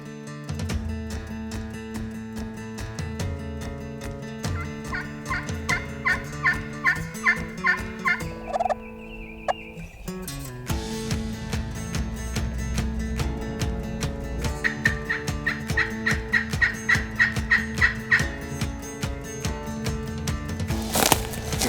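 Repeated yelping calls from a wild turkey hen in rhythmic series on Mississippi public land in spring, distinct but set against a dense, continuous backdrop of other sound.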